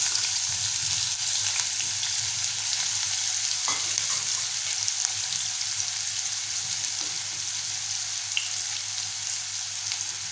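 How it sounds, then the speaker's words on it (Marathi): Finely chopped onion frying in hot oil with cumin and mustard seeds, a continuous dense sizzle held at an even level throughout, with a faint stir or tap now and then and no voices. "आता आपण बारीक चिरलेला कांदा घालूया."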